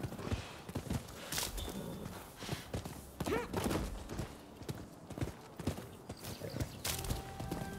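Horse hooves clip-clop steadily at a walking pace while riding in the Rise of the Ronin video game, close and moderately loud.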